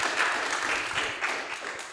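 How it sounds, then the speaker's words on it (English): Audience applause rings out after a pitch presentation at a startup conference, a steady wash of many hands clapping, fairly close, fading slightly toward the end. "give a round of applause to Apify"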